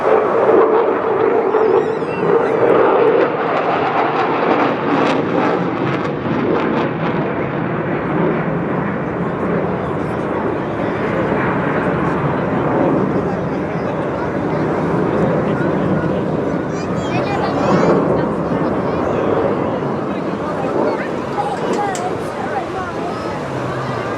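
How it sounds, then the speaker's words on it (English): An RAF Eurofighter Typhoon jet flies an airshow display over the English Riviera, its engine roar a loud continuous broadband rumble that swells and eases as it slows, with commentary heard throughout. "Slowing the jet down a little bit."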